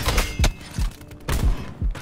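Gunfire in the video game Black Ops 4 cracks out in about five sharp, booming shots, spaced unevenly and close, with no talking.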